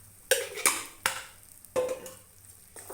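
Masala stirred and roasted in a pan over low gas heat, with a spoon scraping and knocking against the pan in several distinct strokes over a soft background.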